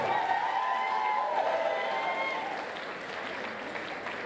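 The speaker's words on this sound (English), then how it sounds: "How about a big round of applause" Applause and cheers from a wedding reception crowd greeting the couple's entry, a dense wash of clapping and voices with a bright tone near the start, steady and then easing slightly toward the end.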